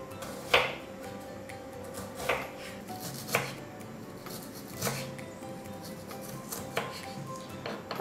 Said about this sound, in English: we're gonna chop it as fine as you can, as small as you can